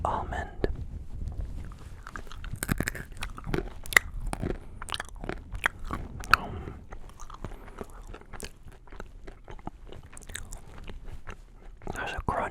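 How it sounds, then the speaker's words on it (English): An almond is bitten and chewed close to the microphone, giving crisp crunches followed by irregular chewing and crackling, with soft whispering in between. "Let's try to eat a nice little almond."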